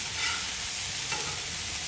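Chicken pieces sizzle and crackle steadily on a hot Blackstone griddle, a continuous close frying hiss with a brief scrape as pieces are moved.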